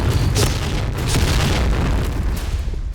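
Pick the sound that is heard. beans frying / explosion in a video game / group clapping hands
explosion in a video game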